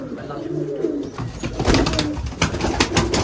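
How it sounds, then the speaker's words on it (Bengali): Domestic Giribaj pigeons in a rooftop loft on a Bengali pigeon farm, cooing in soft repeated rolling calls close by, with men chatting in the background and some rustling and wing movement. "অনেক সুন্দর কবুতর"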